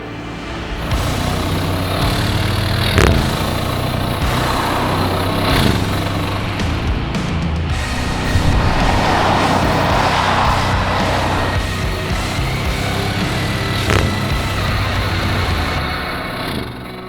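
A 2021 Bentley Flying Spur with its 4-litre twin-turbo V8 drives on the road, giving a steady, continuous engine drone and road rumble throughout with no talking.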